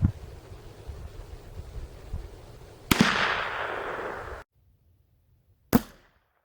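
A .22 revolver fires two sharp shots outdoors, separated by a few seconds of wind noise and silence, each crack loud and followed by a short decay.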